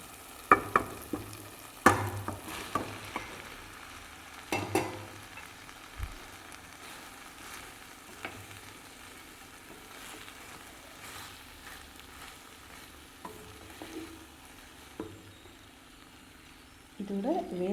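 Cooked rice is stirred into ivy gourd greens in a pan, with a few scraping strokes early on, then sporadic soft stirring and a louder burst of scraping at the end.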